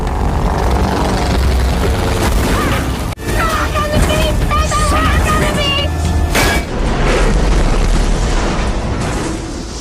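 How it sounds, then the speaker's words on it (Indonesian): A plane comes down hard on an island in a crash landing: loud booming impacts with a sharp crash, then clattering, rumbling debris, all inside a dense dramatic soundtrack with voices mixed in. "Namun pendaratan itu tidak berjalan mulus, pesawat mereka terbentur keras di pulau tersebut."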